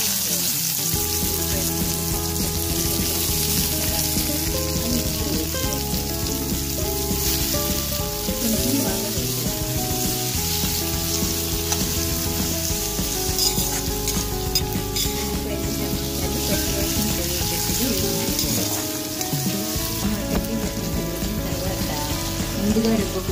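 Onions sizzle and fry loudly in a pan for a drumstick curry, a dense continuous crackle with occasional stirring, close up and without a break throughout.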